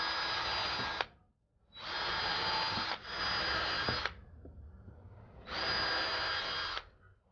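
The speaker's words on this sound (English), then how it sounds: "Always when drilling in wood, make sure that you pre-drill." A power drill whirs in three steady bursts of about a second each while pre-drilling holes in wood, with short pauses between them, close and loud.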